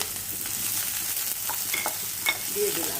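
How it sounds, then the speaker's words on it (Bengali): Onions, chilies and carrots fry in ghee in a pan, giving a steady sizzle with scraping stirs and light utensil clinks. A voice speaks briefly over it. "ঘিতে আমি পেঁয়াজগুলো, লঙ্কাগুলো সব আর গাজর তিনটে"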